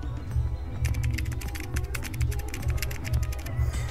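Rapid keyboard typing with irregular bursts of clicky keystrokes over a low steady hum, close up and continuous with no voices.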